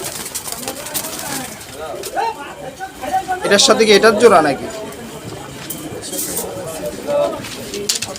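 Gola and giribaj pigeons coo and flutter at a busy pigeon market, a louder burst rising midway, under steady talk from nearby people.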